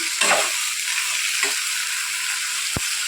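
A spoon scrapes and stirs through thick garlic-chili masala for a brinjal curry in a sizzling pan, with a steady frying hiss throughout and a sharp clink near the end.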